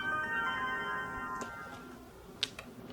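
A mobile phone sounds a sustained tonal alert that fades out, followed by a few faint ticks and a sharp click nearby, quiet and with no speech.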